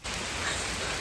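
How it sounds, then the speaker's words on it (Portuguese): Heavy rain falls steadily during a motorhome journey in Brazil, a dense, unbroken hiss that stays fairly loud throughout with no voices. "A chuva tá pior aqui."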